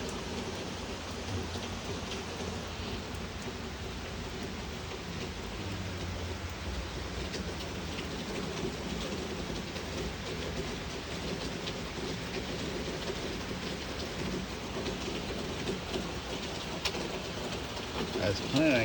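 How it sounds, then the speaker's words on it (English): Steady rain pours through a stormy afternoon, a dense continuous hiss with low rumbling underneath that may be distant thunder, constant and fairly even in level throughout, with no clear voices standing out. "And it looks like our afternoon walk has a imminent rain delay."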